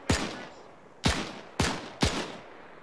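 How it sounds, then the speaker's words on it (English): Four sharp, loud gunshot bursts about half a second apart with decaying echoes, from a machine gun firing in the military shooter game ArmA 3 during a Tunisia historical campaign battle, with no talk. "We gotta find that MG and take it out!"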